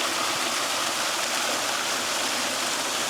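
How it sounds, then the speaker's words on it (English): A small, low-flowing forest waterfall splashes continuously, a steady, close, bright rush of falling water with no voices. "just beautiful little waterfall"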